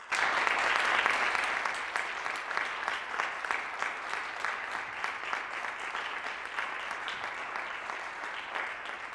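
A second round of applause from a panel audience at a ballet film event: sustained crowd clapping, loudest at the start, then settling into a steady, slightly thinner patter that carries on without pause.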